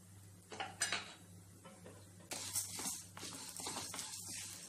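Chana dal roasting in a metal kadai with oil while a utensil scrapes and clinks against the pan, with soft irregular metallic knocks and stirring sounds, quiet and close over a steady low hum.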